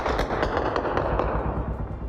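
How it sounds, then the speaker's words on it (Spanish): Automatic high-powered weapons fire in rapid consecutive shots during a clash between the Mexican army and cartel gunmen, a dense, fast rattle of bursts heard from a distance with no voices. "los disparos se pudieron escuchar de forma consecutiva, lo cual apuntaría a que se utilizaron armas automáticas de alto poder"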